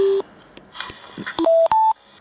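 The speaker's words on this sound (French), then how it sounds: "Il y a un appel." A Bluetooth hands-free car kit clipped to a sun visor plays its incoming-call tone as a few short electronic beeps at rising pitches, loud and close, with faint clicks between them.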